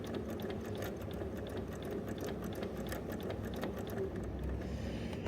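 A sewing machine runs continuously at speed for free-motion stitching on an appliqué quilt, giving a fast, even mechanical chatter that stays loud throughout with no voices.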